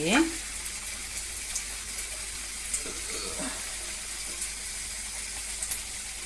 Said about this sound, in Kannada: ಈಗ ಸಮೋಸನ ಬಿಡೋಣ ಆಯಿಲ್ಗೆ ನೀಟಾಗಿ ಫ್ರೈ ಮಾಡ್ಕೊಳ್ಳಿ